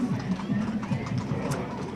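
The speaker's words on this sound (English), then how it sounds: "Those are some good-looking horses." Horses with riders clip-clop along in a July 4th parade, their close, rhythmic hoof strikes on pavement running under a person speaking.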